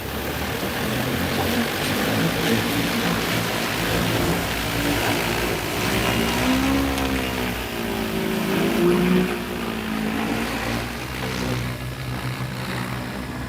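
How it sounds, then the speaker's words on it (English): A drone's propellers whir in a steady, droning hum that holds at a fairly even level, its pitch wavering up and down for a few seconds midway through. "while the drone's out there headed back out"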